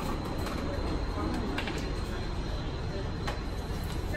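Steady rumble and rattle of a moving suburban commuter train heard from inside a carriage, with faint clicks from the rails over the continuous noise.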